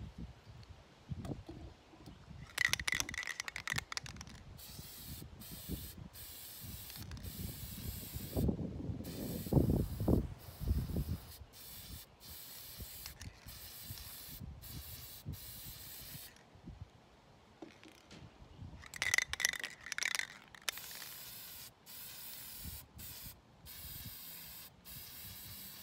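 A spray can or gun lays down a white base coat of paint on homemade catfishing lures. There are two close, loud hissing bursts of a couple of seconds each, with quiet handling noises and rustling in between.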